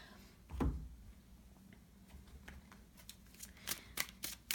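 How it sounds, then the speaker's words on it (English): Tarot cards being shuffled by hand, soft close riffling and snapping taps that grow busier toward the end, with a louder handling bump near the start and no talk. "while I'm shuffling"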